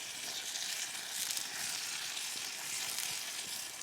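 Peppers and onions frying in a pan over a campfire in the woods, a steady close hiss of sizzling with small crackles throughout, alone.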